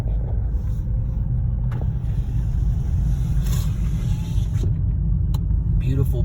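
A car drives down an icy, snowy mountain road from a monastery on all-weather tires, a loud continuous low rumble of tires and engine inside the car, with occasional knocks and creaks.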